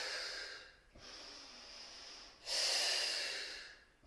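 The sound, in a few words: breathing during a Pilates mat exercise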